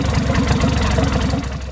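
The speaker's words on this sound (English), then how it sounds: "Now the much younger brother is going to try to run a 400 Farmall, that propane tractor." A propane-fuelled Farmall 400 tractor engine runs close by at a steady idle, its low, even firing pulses thumping throughout without a break.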